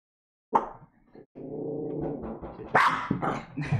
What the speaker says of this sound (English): She's quite a lovely lady when she wants, but sometimes she just barks.